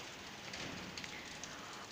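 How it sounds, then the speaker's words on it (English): Rain falls steadily during a July downpour in Serbia, heard as a soft, continuous hiss of drops with faint patters and no talking. "Look at this. It's raining."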